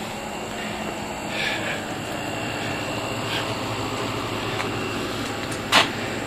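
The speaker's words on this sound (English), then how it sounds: "So I squeezed the old backhoe loader in here." An old backhoe loader engine idles with a steady, continuous drone that holds level throughout, with a few brief higher-pitched bumps rising above it near the end.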